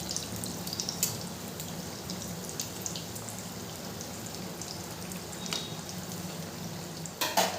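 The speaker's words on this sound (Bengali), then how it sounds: "চপগুলো উল্টে পাল্টে 2 পিঠ খুব ভালো করে ভাজা হয়ে গেছে" Aloo chop, potato chops frying in hot oil in a pan as they are flipped, giving a continuous crackling sizzle with a few sharp spatula clinks and splutters near the end.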